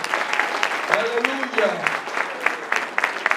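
A church congregation claps in steady rhythmic praise, loud and close, while a voice calls out over the clapping.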